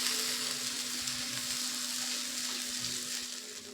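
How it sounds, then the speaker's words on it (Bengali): Water poured into masala frying in a pan for a spicy tangra fish kosa curry sets off a loud, steady hiss and sizzle that fills the whole stretch and eases slightly at the end. "এখানে আমি 1 বাটি জল নিয়ে নিয়েছি, জলটা এবার দিয়ে দেব।"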